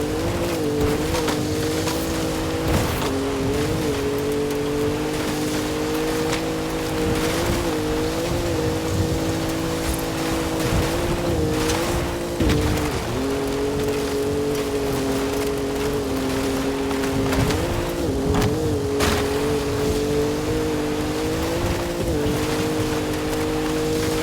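A Lamborghini Centenario engine in a racing video game, a loud continuous high-revving drone that rises and dips with gear changes and throttle, with occasional tire noise and no talk.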